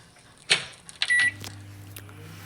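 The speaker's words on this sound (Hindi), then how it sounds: "यहाँ पर माइक्रोवेव है, शायद ये उसके अंदर मेल्ट होगा।" Microwave oven in the horror game METEL Horror Escape, melting ice: a sharp click and beep, then a steady electric hum that settles into a low drone, with a couple of faint clunks.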